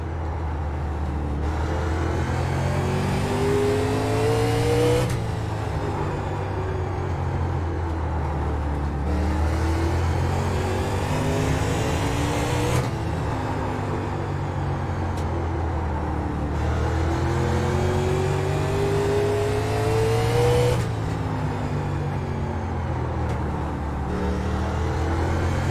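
A 1987 race car tears past at full throttle at Lanier, its engine roaring and whining loud and steady throughout, with repeated surges and pitch sweeps as it accelerates by; no talking.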